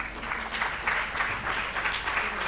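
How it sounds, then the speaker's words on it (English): An audience at a youth innovation awards ceremony applauds steadily, a dense, even patter of many hands clapping throughout with no voices over it. "Let's give him a round of applause"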